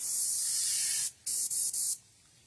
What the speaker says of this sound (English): I got a little clog in my airbrush here, so I'm going to try to figure out how to clean this guy out